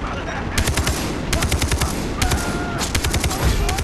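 Rapid automatic gunfire from the video game Far Cry 3 rattles in repeated bursts across a co-op firefight, loud and close, with short gaps between volleys and a player's voice shouting over it.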